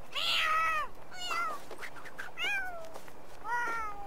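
Cats in The Sims 4 video game meow and yowl in several drawn-out, rising and falling cries, loud and close, with short pauses between them as they fight.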